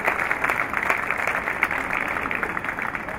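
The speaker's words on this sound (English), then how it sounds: "Let's give them a warm round of applause." An audience at a live evening concert applauds a youth band, a continuous wash of clapping at moderate distance that holds steady without talk over it.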